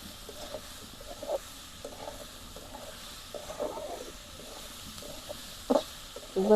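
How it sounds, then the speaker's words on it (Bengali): A faint, steady sizzle of onions frying in hot mustard oil, with occasional soft stirring scrapes and pops. "সুন্দর করে ভাজা ভাজা করে নেবো"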